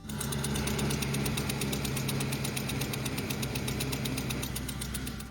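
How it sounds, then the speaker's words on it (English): A faulty car engine knocks with rapid, evenly spaced metallic taps over a steady running drone, close and continuous with no talking. "Customer states, knocking sounds from engine."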